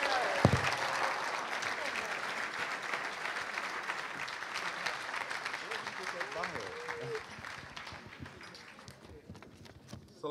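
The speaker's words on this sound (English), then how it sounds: "Please welcome him with a warm round of applause." Audience applause at a pre-Ramadan banquet welcoming a student minister to the podium: steady dense clapping from a seated crowd, fairly distant and tapering slightly over ten seconds, with murmuring voices underneath.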